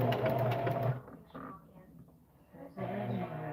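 A sewing machine with a walking foot stitches fabric in quick mechanical bursts, a short run of rapid stitching, a pause with faint quieter sounds, then stitching resumes, close and moderately loud.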